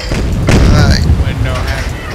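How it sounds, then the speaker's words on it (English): Torpedoes launch in a naval battle video game set at Leyte Gulf, a deep booming burst with a rumbling low tail, while a player talks over the game sound. "Shoot the torpedoes."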